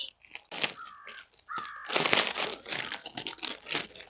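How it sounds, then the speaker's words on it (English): Two crows caw in quick succession, fairly close, at an outdoor fibre festival, while crinkly rustling and crunching of packaging goes on throughout. "Those crows want my yarn."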